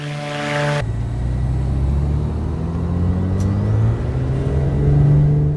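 A loud turbocharged engine of a Beechcraft Duke in Microsoft Flight Simulator drones steadily with rising and falling tones, the turbo's high whine mixed into the roar; no one speaks.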